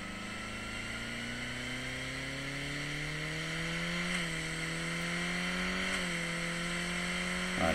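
A motorcycle accelerates back up to speed, engine note climbing smoothly with two brief dips as it shifts up into higher gears, under steady wind rush, moderate and continuous, with no one talking.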